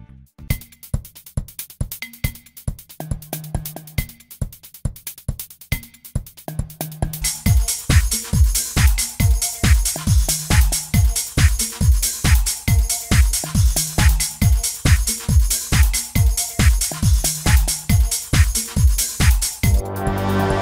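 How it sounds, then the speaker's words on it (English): Drilling a center hole through an acrylic blank sized near lathe capacity, heard as a steady rhythmic whirring and grinding that grows louder and denser partway through, close and alone without talk. "You start by drilling a hole right in the center of your acrylic."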